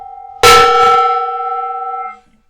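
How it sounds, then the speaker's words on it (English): A single strike on a decorative gong rings out loud and bright, then a sustained metallic hum fades over nearly two seconds and cuts off. "I'm going to hit that gong."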